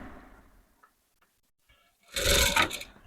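A sewing machine stitches ruffles on a maxi dress in a short loud burst of rapid whirring about a second long, following a quiet stretch with a few small clicks.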